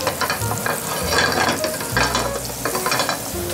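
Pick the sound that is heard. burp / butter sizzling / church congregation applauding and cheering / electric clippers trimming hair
butter sizzling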